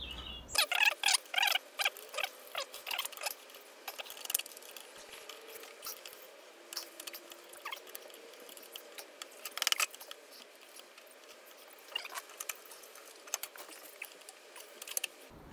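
Metal clicks and scrapes from an old oversized wrench tightening the clutch nut on a Dax ST 70, a run of sharp close ratchet-like ticks at the start and scattered clicks afterward.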